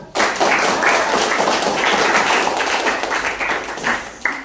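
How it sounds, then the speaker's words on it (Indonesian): A class of students claps together after a classroom activity, a loud, close burst of applause that starts abruptly and holds steady for several seconds before tapering off. "kasih tepuk tangan"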